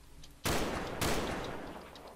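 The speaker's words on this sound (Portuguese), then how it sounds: "Gastei três tiros." Two sharp gunshots in Combat Arms ring out about half a second apart, each a sudden loud crack with a long echoing tail.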